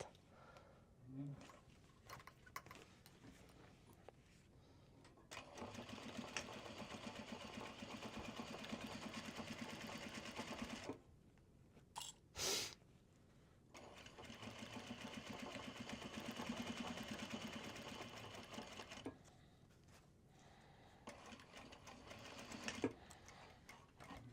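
Sewing machine top stitching an obi bag upcycled from Japanese obi fabric, two long close whirring runs of rapid stitching separated by quiet pauses and a short clunk, voices audible at times.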